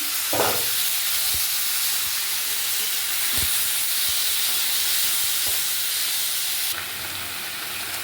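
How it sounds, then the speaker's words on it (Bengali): Taro stems dropped into a hot tempering of mustard seeds, nigella and dried chillies sizzle with a strong, steady hiss, close and loud, with a few knocks of utensils and no talking. "এবার ফোড়নটা হয়ে গেছে, কচুর ডাঁটাগুলো দিয়ে দিলাম।"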